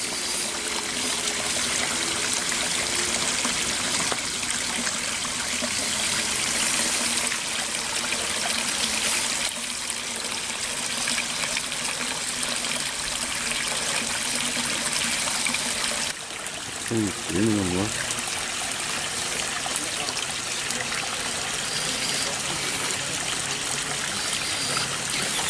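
A micro 1/24 URUAV CR-24 RC crawler drives through water, producing a steady, close trickling and splashing wash that runs throughout with little change.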